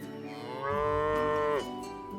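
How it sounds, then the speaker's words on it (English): A cow in Lords and Villeins lets out one long, clear moo that swells and then drops away, heard alone over a soft game background. "I don't know how we convince the cow to move in."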